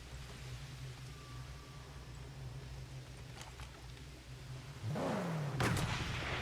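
Gunfire in the Mad Max video game: a few faint distant cracks over a low engine-like rumble, then a louder blast with a sweeping whoosh near the end.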